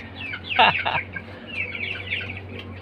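A chicken clucks close by in a short burst of two or three sharp calls, then softer chatter continues over a steady low hum.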